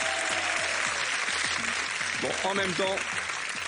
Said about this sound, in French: Je pense que vous pouvez quand même l'applaudir.